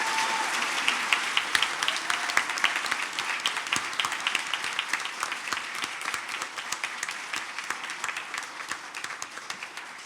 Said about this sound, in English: Please give these folks a round of applause